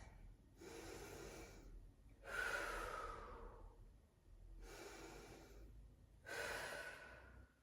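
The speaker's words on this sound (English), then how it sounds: "So just going to take a few more breaths." Heavy, labored breathing during a rest between sprint intervals, four long ragged breaths alternating in and out, close and loud, with gasping, snorting edges and no talk.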